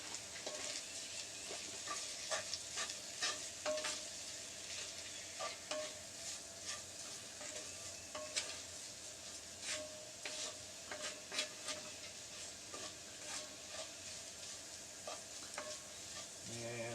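Cajun cod and rice cooking in a pot over coals outdoors, a steady low sizzle broken by frequent utensil clicks and scrapes against the pot, close and fairly quiet, with no talk.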